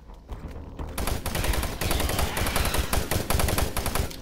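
Rapid automatic gunfire in Doom 3 co-op multiplayer, dense loud bursts of shots firing almost continuously after a brief quieter start.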